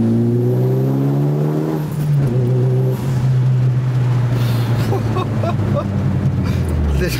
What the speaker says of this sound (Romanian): Hai să mai auzim puțin mașina.